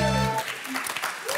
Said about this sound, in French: applaudissements pour Marie-Aude et Bruce